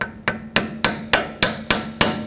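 A hammer strikes a punch through a drilled hole in the wheel hub of a 2009-2014 Honda Fit, eight sharp metallic blows at a steady, brisk rhythm, close and loud, with no voices.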